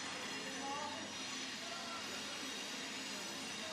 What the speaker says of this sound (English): We get a train in the background. That's the noise.